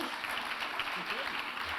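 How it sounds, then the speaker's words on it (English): Audience applause at the Mindful Money Awards 2022 ceremony, a dense, steady wash of clapping from a crowd, with a voice faintly heard under it. "A round of applause for the Pengana WHEB Sustainable Impact Fund."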